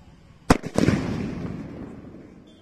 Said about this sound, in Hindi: सुतली बम को जला के देखते हैं हमारा ये बम कैसा फटता है।